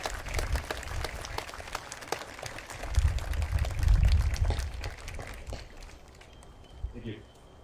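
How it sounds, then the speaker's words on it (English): Sustained applause from an outdoor audience at a veterans' ceremony at Fort Sam Houston Cemetery, honoring spouses and children of veterans; broad, moderately distant clapping with low rumble, fading near the end as a voice begins. "Will all spouses of veterans and their children please stand and accept a round of applause"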